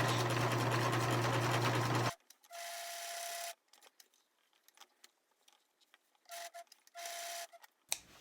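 A sewing machine top stitches a fabric 3D face mask, a loud continuous run of stitching, then several shorter start-stop bursts separated by quiet pauses and a small click at the end.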